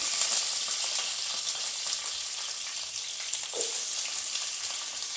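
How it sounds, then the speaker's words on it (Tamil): Onions sautéing in a pan with popped mustard seeds and curry leaves, a soft continuous sizzle and hiss with a few light stirring scrapes, no voices. "ஆனியன் நல்லா வதக்கிட்டு அப்புறம் நம்ம தக்காளி சேர்த்துக்கலாம்."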